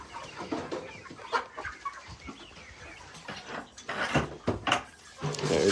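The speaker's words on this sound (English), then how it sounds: "Hey, chickies." Free-range farm chickens clucking and chattering close by, with scattered soft pecking and rustling sounds, continuous and uneven in rhythm.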